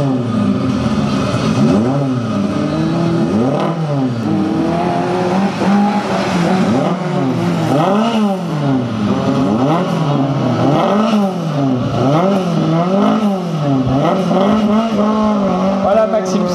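A Samba Rally car races through a slalom in Calais, its engine loudly revving up and down in rapid, repeated gear-change sweeps, with brief tire squeals between bursts.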